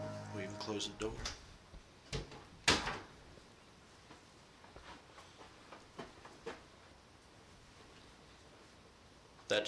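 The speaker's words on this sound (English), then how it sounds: "Close the door." A door is closed during a night investigation at a house on Leeds Road, a sharp thud amid soft knocks and shuffling, with people speaking quietly around it.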